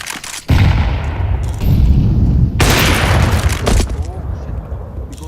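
A grenade blast in the video game Counter-Strike 2, a loud close boom with a rumbling tail and a second sharp burst, heard amid game noise.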